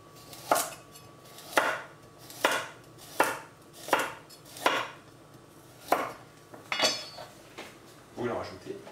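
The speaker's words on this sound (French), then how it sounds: "On va faire la même chose avec la carotte. Vous venez la couper à peu près un petit centimètre comme ça." A knife chops carrot into small pieces of about a centimetre on a board, with about nine steady, evenly spaced crisp knocks. The chopping is close and clear, and no one speaks.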